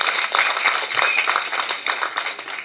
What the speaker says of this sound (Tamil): கைதட்டு சத்தத்தையே காணுங்க.